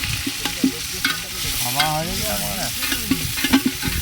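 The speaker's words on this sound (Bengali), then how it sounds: "এখন পেঁয়াজ ভাজা চলছে" Onions frying in a pot over a clay stove for handi chicken give a steady sizzle, with a spoon stirring and scraping now and then, close by, and no voices.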